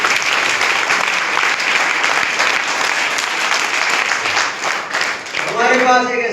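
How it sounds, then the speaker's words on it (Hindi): Audience at a network marketing meeting bursts into sustained applause, dense clapping filling the whole stretch at steady loudness, with a few voices and a brief musical tone near the end. "ताली बजाओ इस अवसर के।"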